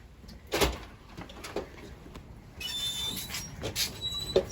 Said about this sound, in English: We're going to go through this door here.